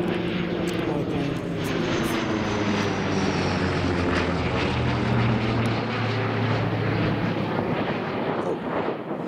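A vintage propeller aircraft at the Duxford air display flies past with a loud, continuous engine drone, its pitch slowly sliding as it passes close overhead.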